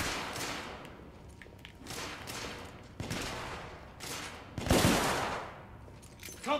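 Enemy pistol fire in the video game The Order: 1886 comes as repeated bursts of gunshots, fairly faint and distant, with a louder cluster of shots near the end.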